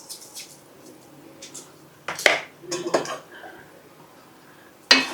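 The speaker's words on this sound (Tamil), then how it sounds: "நல்லா கிண்டி கொடுத்துடணும்." A spoon clanks and scrapes against a metal pot as barnyard millet pongal with salt is stirred, giving a few close, sharp metallic knocks after a quiet stretch, with a voice briefly heard in the background.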